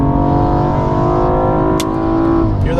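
A BMW M235i xDrive accelerating at full throttle on a dry track, its engine note loud and close inside the car, holding a strong, steady rising drone with a brief high chirp near the end.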